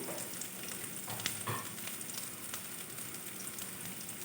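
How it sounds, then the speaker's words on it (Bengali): Chopped onion frying in a pan for an egg snack, a steady close sizzle with occasional scrapes and clicks as it is stirred, no talking. "দিয়ে পেঁয়াজটা নেড়ে নিলাম যাতে তাড়াতাড়ি ভাজা হয়ে যায়"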